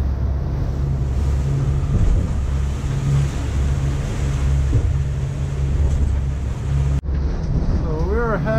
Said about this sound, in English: a huge swell, 20 knots of wind, but the waves are huge coming out from the Biscay.